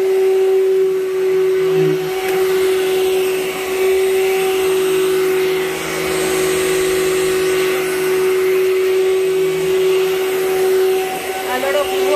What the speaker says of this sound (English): He's using the clear track, Amway or Workhorse vacuum that will